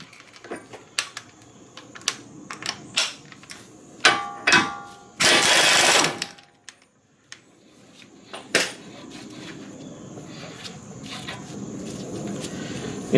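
An air impact wrench works on the axle nut of a Nissan Maxima in a garage: clattery metallic taps and short rattles, then one loud sustained hammering burst of about a second, followed by scattered clanks and a low hiss.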